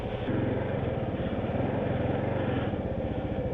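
A 2022 Kawasaki KLR650 strains to climb out of a muddy hole off-road, its single-cylinder engine thumping loudly and steadily close by, a continuous throaty drone with no let-up.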